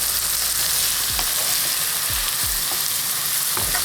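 Vegetables for borscht fry in oil in a frying pan with a constant loud sizzle, while a utensil stirs them and scrapes the pan in several short strokes.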